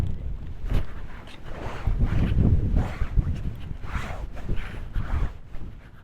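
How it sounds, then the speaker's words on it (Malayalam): Strong wind gusts buffet the microphone near a rural village in Karnataka, making a rough, rumbling roar that swells and eases in uneven waves. "നല്ല കാറ്റ് വീശിക്കൊണ്ടിരിക്കുകയാണ് കേട്ടോ"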